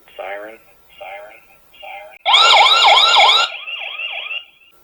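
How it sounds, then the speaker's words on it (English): A small outdoor solar security camera sounds its built-in siren, a loud wailing electronic tone that swoops up and down for about a second, preceded by softer chirping beeps and followed by a fainter wail. "Has a siren."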